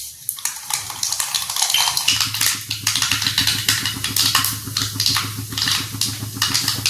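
Mustard seeds dropped into hot oil for a fish pickle, popping and spattering in a pan: a busy, close crackle of sharp pops over a low sizzle, with a metal clink or two.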